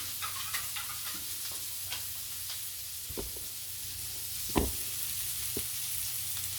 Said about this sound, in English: And I cut half of a small onion. I got it in the pan now, as you see.